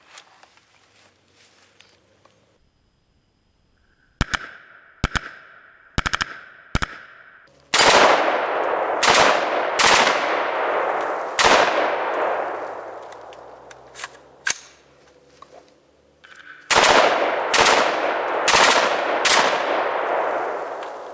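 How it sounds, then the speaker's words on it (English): Bump-fired gunshots with rubber straps, coming in rapid irregular bursts of loud sharp cracks with ringing echoes, first a few scattered shots and then two long volleys separated by a brief pause. "bump fire is not the most accurate thing. So I'm going to give it another shot"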